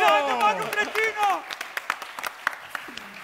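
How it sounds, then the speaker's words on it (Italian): Audience applause for a comic stage magician, scattered claps that thin out over a few seconds while a voice speaks over them at the start. "Facciamoglielo un applauso."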